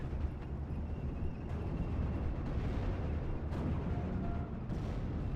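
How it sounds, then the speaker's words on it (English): Distant artillery barrage in the WWII strategy game Steel Division 44, a continuous low rumble of overlapping explosions with a few sharper bursts standing out, no voices. "Over here, you can see the previous barrage that explains all the explosions."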